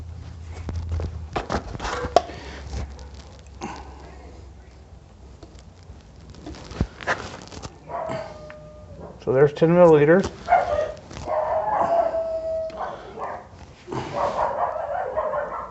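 Household dogs bark and yelp in a short, wavering burst midway, with more yips after it, during a degreaser test on a work surface. A person talks over and between the barks.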